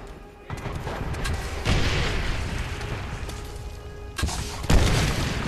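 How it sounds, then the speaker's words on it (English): Loud booms and bursts of gunfire from Call of Duty: World at War artillery on an airfield map, a dense, continuous barrage with sharper blasts near the end. "Artillery's gonna force them out of their area."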